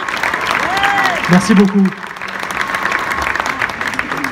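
Applause from an audience at a rugby club jersey launch runs beneath a short spoken thanks, moderate and steady clapping with a brief louder crowd swell in the middle.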